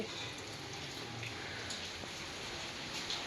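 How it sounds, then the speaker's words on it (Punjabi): Heavy rain pours down in a dense, unbroken hiss with scattered close drops, steady and enveloping throughout without any voices. "ਬਾਰਿਸ਼ ਬਹੁਤ ਜ਼ਿਆਦਾ ਹੋਈ ਜਾਂਦੀ ਹੈ ਦੇਖੋ ਹਟ ਹੀ ਨਹੀਂ ਰਿਹਾ"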